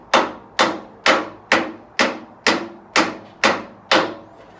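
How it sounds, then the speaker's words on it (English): Nine sharp, evenly spaced body hammer taps ring out on a metal car fender, each decaying quickly, close and fairly loud with no talking. "take your body hammer and get that thing nice and square under there and just give it a few taps"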